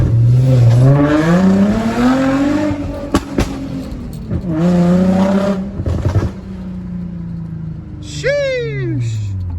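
An Infiniti G35 driven on the road, its engine droning and rising and falling under a voice, with a short burst of sharp crackling exhaust pops near the end.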